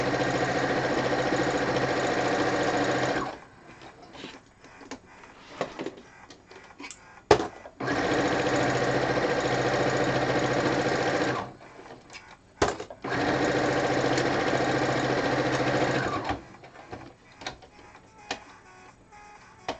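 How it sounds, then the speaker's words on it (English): A sewing machine stitches in the ditch along a binding seam in three sustained close bursts, separated by pauses filled with faint handling clicks and thumps. "where I sewed the binding on, I'm sewing right in there so you can't see the thread"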